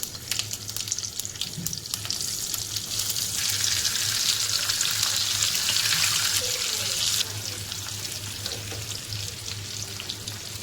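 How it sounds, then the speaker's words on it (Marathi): Stuffed bell peppers dropped into hot oil with mustard seeds and cumin, a steady loud hiss and crackle of frying that runs continuously, easing slightly toward the end, with no talking. "तेल गरम झाले, राई, जिरं, मिरच्या भरलेली साईड आपण खाली ठेवणार आहोत."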